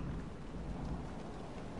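Steady rain and rumbling thunder from a storm in the video game Dragon Age: Inquisition, a dense, continuous wash of hiss with low rolling rumble throughout, no voices over it.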